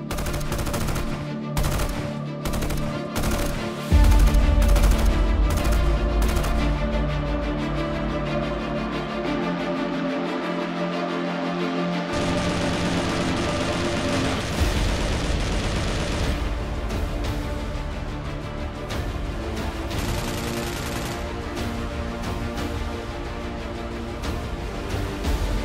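Rapid bursts of gunfire crackle and rattle loudly, with sustained automatic fire and booming shots over a continuous low rumble.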